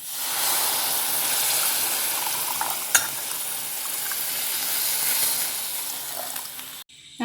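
Blended tomato purée hitting a pan of softened onion and green chilli for a restaurant-style tomato soup, giving a steady close sizzle and hiss with light stirring and one brief clatter near the middle, then a sudden cut.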